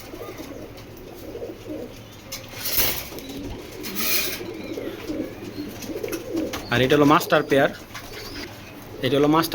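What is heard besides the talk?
racing pigeons cooing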